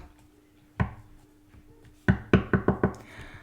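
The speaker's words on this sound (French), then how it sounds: "Je tape sur la table." A hand raps on a tabletop: one knock, a pause, then a quick cluster of five sharp taps, all close and fairly loud in an otherwise quiet room.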